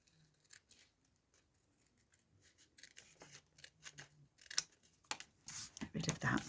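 Scissors trim paper scraps for a journal in a series of close, crisp snips, quiet at first and getting busier and louder toward the end, while a voice speaks intermittently.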